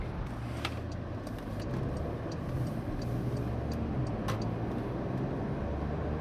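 Car with an APR tune driving around on a street, a steady low engine and road rumble with a few faint ticks and clicks inside the cabin, no talk.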